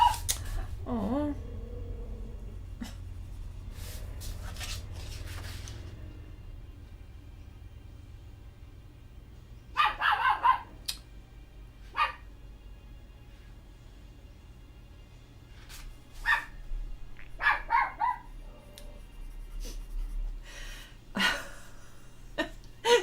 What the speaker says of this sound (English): Such a tiny bark, yes.